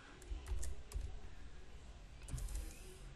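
Soft keystrokes on a computer keyboard come in a few quick clusters with short pauses between them, faint and close, with no talking.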